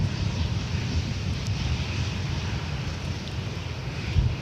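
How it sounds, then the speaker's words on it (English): A Turkish Airlines Boeing 777-300ER arriving from Istanbul lands on runway 24R at LAX with a steady, broad jet roar and some wind noise, loud throughout with no talk. "Up next is the Turkish 777-300ER, Flight 9, coming in from Istanbul."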